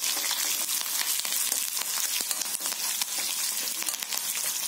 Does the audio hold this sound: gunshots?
no